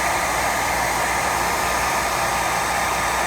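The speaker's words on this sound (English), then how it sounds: "I'm pointing the blow dryer right at this" A hair dryer blows hot air steadily at old game console boxes, a loud continuous broadband rush with no breaks and no voices.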